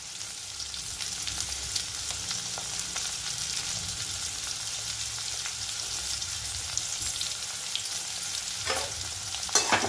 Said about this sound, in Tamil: நல்லா பொன்னிறமாக வறுத்துடலாம்